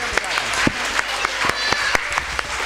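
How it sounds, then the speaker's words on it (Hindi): An audience at a school annual result event claps in a brief burst of scattered, sharp handclaps close by, with voices talking over it. "तालियां बजा दें।"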